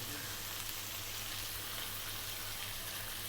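Fish sauce hits vegetables in a hot wok, producing a loud, steady close sizzle of frying that fills the whole stretch without a break.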